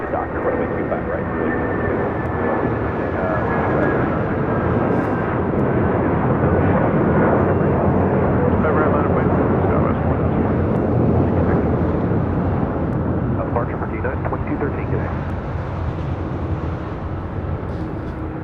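Airliners at LAX, including an Airbus A380, roar steadily and loudly throughout with a broad jet-engine rumble, a faint whine gliding through early on, and low background chatter.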